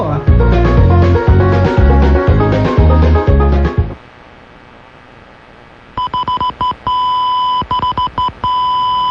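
On DZRH-AM radio at sign-on, a short musical jingle stops, then after a pause a series of short electronic time-signal beeps sounds, ending in a longer steady tone.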